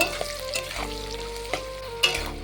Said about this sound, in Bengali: দুটো চেরা কাঁচা লঙ্কা দিয়ে দেবো কাজু কিশমিশকে খুব ভালোভাবে ভেজে নেব